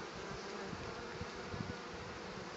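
Honeybees carrying pollen fly back into the hive at an apiary, giving a continuous close buzzing drone with slight fluctuations and no talk.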